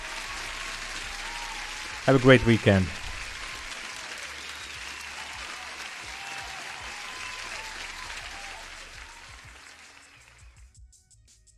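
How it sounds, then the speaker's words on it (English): A short loud burst of applause from a crowd, lasting about a second to honor a departing guest on a live futures day-trading stream, then fading into a long quiet stretch of faint background noise and a closing voice. "huge applause for Patrick"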